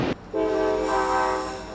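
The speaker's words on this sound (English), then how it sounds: "As the train rolls off from Toronto to Ottawa" A passenger train pulling away from Toronto bound for Ottawa, its horn sounding as a loud, sustained tone after a brief burst, with a steady rail rumble beneath; no talking.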